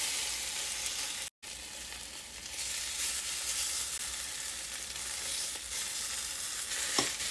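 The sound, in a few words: chocolate chip French toast frying in a pan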